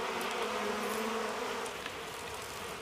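Bees swarm at a wild hive calmed by smoke, their dense, steady buzzing drone filling the air, close and continuous, with no voices.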